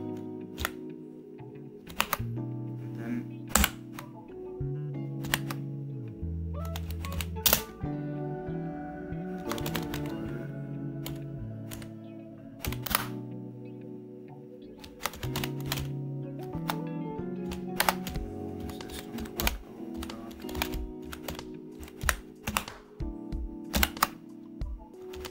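Keys clatter on a computer keyboard while Java code is typed, a steady run of crisp close clicks with brief pauses between bursts and no talking.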